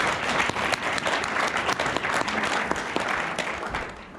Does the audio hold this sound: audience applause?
yes